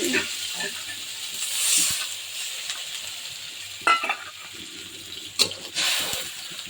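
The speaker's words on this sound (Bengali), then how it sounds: "হলুদ, লবণ, হালকা একটু মরিচের গুঁড়া আর ধনিয়া জিরার গুঁড়া দিয়ে মশলাটা কষি।" Spice paste of garlic paste, turmeric, salt, a little chili powder, and coriander and cumin powder fries in a pan, giving a steady sizzle broken by a few sharp stirring scrapes and clacks, with no one talking.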